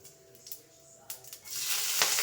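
Cumin seeds drop into hot olive oil with mustard seeds already in the pan, a few faint clicks first, then a bright hiss of sizzling swells up and holds, close by.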